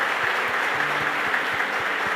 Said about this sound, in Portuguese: vocês merecem uma salva de palmas, merecem.